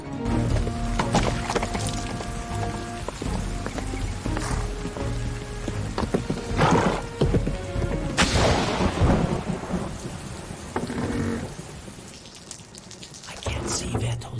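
Steady, heavy rain hisses throughout, with deep rumbles of thunder and a few sharp cracks rising over the downpour.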